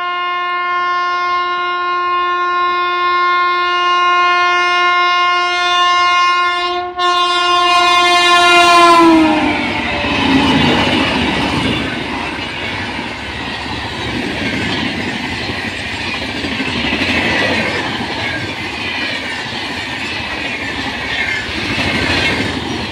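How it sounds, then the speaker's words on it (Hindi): Indian Railways New Delhi–Darbhanga Bihar Sampark Kranti Express overtaking: a long, loud horn blast sounds first, then the train roars past close by with rushing wheel noise and rail clatter sustained to the end. "12566 नई दिल्ली दरभंगा बिहार संपर्क क्रांति एक्सप्रेस की। ये भी हम लोगों को यहाँ ओवरटेक करके जाने वाली है।"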